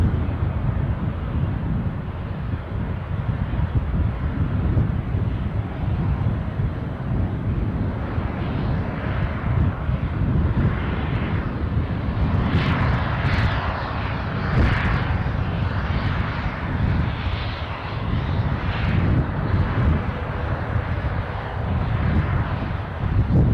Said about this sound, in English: I think the Eastern that is just passing my position is off to Wick